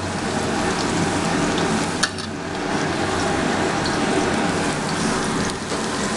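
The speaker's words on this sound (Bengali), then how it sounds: "নিয়ে হালকা একটু ফ্রাই করে নিতে হবে সামান্য" Chopped onion and capsicum frying in hot oil in a kadhai, a steady dense sizzle with a brief clink partway through, no talking.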